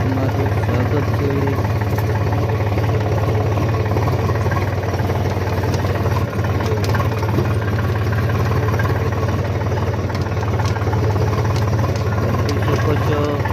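Farm tractor engine running steadily at a close, loud, continuous idle-like rumble with slight knocking vibration, heading out to a field to load up; no clear speech.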